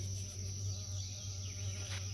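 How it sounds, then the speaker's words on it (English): Steady insect buzzing close by, a continuous drone like a bumblebee hovering, under faint outdoor background. "Got a bumblebee."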